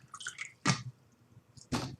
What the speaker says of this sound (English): Let me just drink some water again